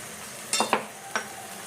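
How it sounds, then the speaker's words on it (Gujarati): A spoon stirs spices into a simmering gravy with boiled chickpeas: three quick, close scraping strokes against the pan over a quiet background. "બધું કરી દઈએ મિક્સ. હવે આપણે અંદર મસાલા કરી લઈએ."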